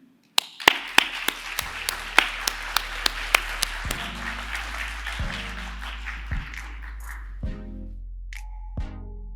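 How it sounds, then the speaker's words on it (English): A plenary-talk audience gives scattered applause to welcome the speaker: a dozen or so crisp, distinct claps at first, thinning out to a few isolated claps as the clapping fades. "Reserve your applause to the end"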